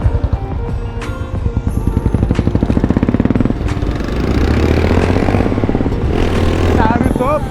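A Royal Enfield Bullet motorcycle thumps loudly at close range during a riding trial, its rapid, pulsing exhaust beat rising and then settling into a steady drone, with voices talking over the engine.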